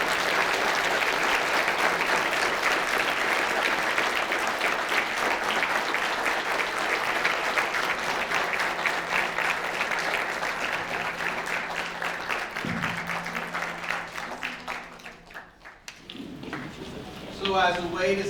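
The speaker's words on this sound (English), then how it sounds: "thank you to this bright star, Alexis Scott, let's give her another round of applause" Sustained audience applause fills the room after a STEM talk, a dense steady wash of clapping that thins and fades toward the end, with a voice briefly audible near the close.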